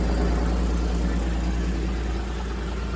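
Close, steady idle of a Kawasaki Mule Pro FXT utility vehicle following alternator work, a continuous low rumble with slight clutch noise that eases a little toward the end, with no talking.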